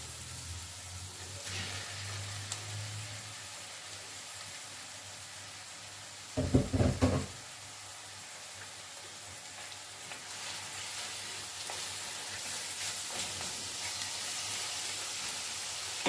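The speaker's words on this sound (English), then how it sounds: "Now I'm going to add in my garlic, fresh garlic and ginger." Garlic, ginger and meat sizzle in a pot for a sugar bean bredie, giving a steady, faint, close hiss with a brief clatter of stirring partway through.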